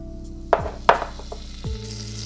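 Butter sizzles in a heavy-duty saucepan, with two sharp bursts as it hits the hot pan, then a softer settling hiss and a low clunk, with no one speaking.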